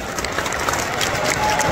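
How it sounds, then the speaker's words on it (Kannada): An audience at a film song launch event claps for a guest, a brisk, moderately loud burst of applause with some crowd murmur and scattered sharp claps standing out. "ಶಶಿ ಸರ್ಗೋಸ್ಕರ ಒಂದು ಜೋರ್ ಚಪ್ಪಾಳೆ"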